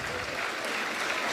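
An audience at a motivational talk claps briefly, a soft, even patter of many hands heard at moderate distance without a voice over it.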